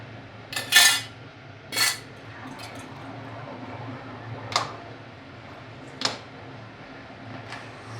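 A spoon scraping and knocking against a cooking pot while ube halaya is stirred, a few scattered clinks and scrapes at irregular intervals over a quiet background, with nobody talking.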